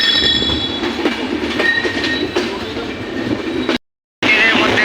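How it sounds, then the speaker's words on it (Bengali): Drutojan Express (Panchagarh to Dhaka) pulling out of Natore station, with loud rhythmic clickety-clack of wheels over rail joints and a squeal, close by, cut by a brief silent gap near the end. "থেকে ছেড়ে যাচ্ছে দুটোজান এক্সপ্রেস"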